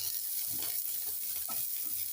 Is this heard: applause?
no